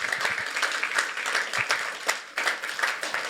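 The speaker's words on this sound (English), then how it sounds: "So please give them a round of applause." An audience at a school board of trustees meeting applauds the choir directors, steady dense clapping from many hands, moderately distant and continuous throughout.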